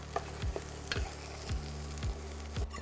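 Eggplant pieces frying in oil for a Pallars-style saffron rice dish, a steady close sizzle broken by several soft scraping stirs at regular intervals, with no talking.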